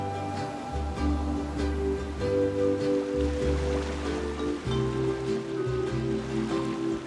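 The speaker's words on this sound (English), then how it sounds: "Hear the waves." Continuous wash of ocean surf on a Hawaiian shore, a steady broad roar of breaking waves blended with a low layered musical bed, with no talking.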